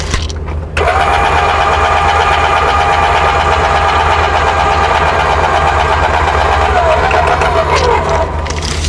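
A vehicle engine idles steadily with a low, constant rumble while a weight distribution hitch with sway control is set up, running loud and close for several seconds after a brief quieter start.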